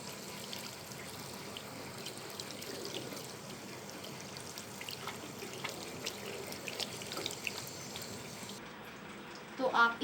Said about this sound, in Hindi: अब आप अपने हाथों को अच्छे से पानी से धो लें।